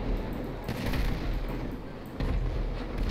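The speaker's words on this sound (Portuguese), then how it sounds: "Os tiros pegando tudo aqui, Moreca." Gunfire and heavy cannon blasts in the video game GTA V Online, a tank battle, rumbling in dense, overlapping bursts with a deep booming low end throughout.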